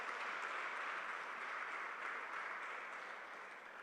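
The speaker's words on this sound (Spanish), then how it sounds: "Dale un fuerte aplauso al Señor." A church congregation gives a sustained round of applause during a Bible study and intercession service, a dense even patter of many hands that holds steady and then tapers slightly, heard somewhat distantly.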